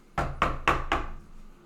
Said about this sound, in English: There was knocking all along the walls